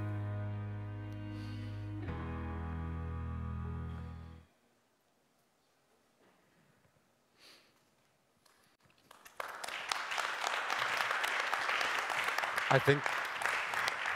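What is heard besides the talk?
audience applause at a conference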